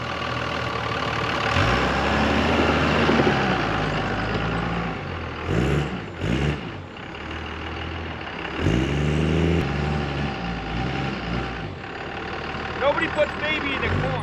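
A snow plow truck pushing and stacking snow, its engine idling and revving in a steady mid-pitched drone with brief surges and a few clanks, under someone talking.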